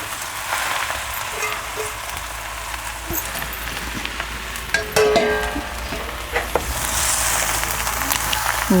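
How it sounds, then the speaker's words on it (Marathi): Amaranth leaves frying in a pan as more greens go in and get stirred, a continuous sizzle with scattered scraping and clattering spoon noises, close and moderately loud, rising toward the end with no one talking. "मी राहिलेल्या भाजीसुद्धा आता घालते"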